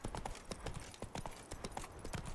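Horse hooves clip-clop in a steady trotting rhythm across a stretch of ground in The Witcher 3, loud and close with no talk over them.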